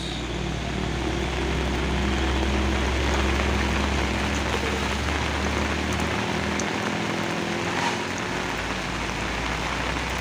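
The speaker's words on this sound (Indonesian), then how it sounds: "Hujan deras, pagi-pagi sudah hujan." Heavy morning rain pours steadily at Bukit Kodok, a dense hiss of drops on surfaces, with a low truck engine hum underneath.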